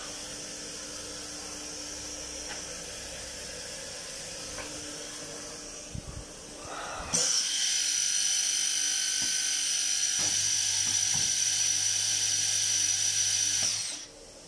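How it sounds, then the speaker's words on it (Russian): A high-pitched horizontal drilling head whines steadily, then rises to a louder, sustained screech for several seconds as it drills into metal before cutting off, with faint clicks underneath. "развернем горизонтальную сверлильную головку,"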